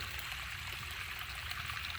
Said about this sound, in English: So I went ahead and filled up my water can